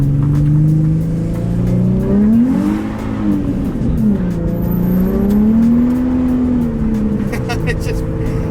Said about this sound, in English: I think it's the diff maybe making the noise